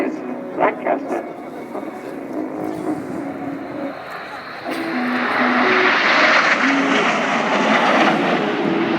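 An Avro Lancaster bomber flies past at the Waddington International Airshow: a deep piston-engine drone swells from about halfway through into a loud, sustained roar, while an announcer talks over the crowd.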